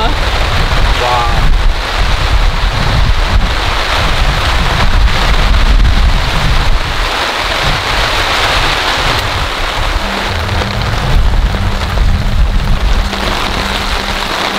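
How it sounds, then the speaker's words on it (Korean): Heavy rain pours steadily onto a tent at a campsite while strong wind gusts roar into the microphone. The noise is loud and continuous, and a brief voice cuts through at one point. "바람이 계속 불어요."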